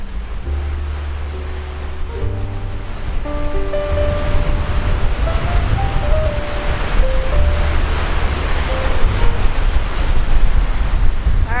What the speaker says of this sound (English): it was also very windy here